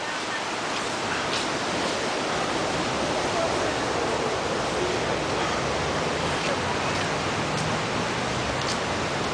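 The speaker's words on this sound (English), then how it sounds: "That river is just cooking. It's not even a river, it's a creek" Rushing creek water in Boulder, Colorado, running high and fast near a kids' fishing pond, a steady, dense, loud wash of broadband roar with no break throughout.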